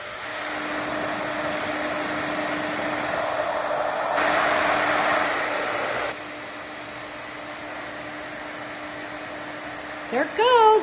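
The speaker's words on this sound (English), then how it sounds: "And with your heat tool, you're gonna just set this and let it puff up." Craft heat tool blows hot air onto a paper project to make it puff up, a steady fan whir with a brief louder stretch in the middle, then quieter, ending with a short burst of talk.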